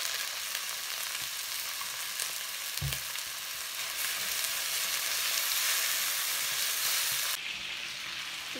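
Chicken fries in a pan with a dense, steady sizzle close to the microphone, broken by a brief clunk of a utensil near the middle and a drop in the hiss near the end.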